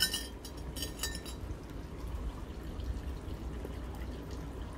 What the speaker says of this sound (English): here we are, end of the day, and it's absolutely pouring down now